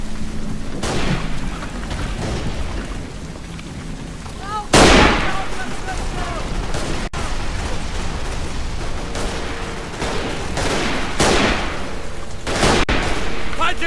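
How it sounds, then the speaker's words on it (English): Machine gun fire in the World War I shooter Verdun, with distant rattling bursts and booming impacts over a constant battlefield din, one sharp close blast standing out partway through, and a voice talking over it. "That's probably a machine gun."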